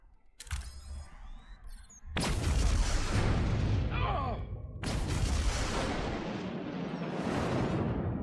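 An explosion detonates in the Star Trek: Resurgence video game, breaking in as a sudden loud boom that rolls into a long, heavy rumble, with a second blast surging in partway through and sustaining the roar to the end.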